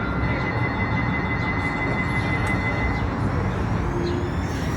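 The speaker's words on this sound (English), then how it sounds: "Well, there goes the train to Beaverton." A Portland light-rail train bound for Beaverton pulls away, its steady low rumble and rail hiss filling the air loudly, with a faint tonal whine running through, and no voices heard.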